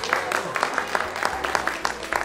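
Scattered clapping from a small gathering at a 50th birthday party, uneven claps repeating through a steady murmur of talk and room noise.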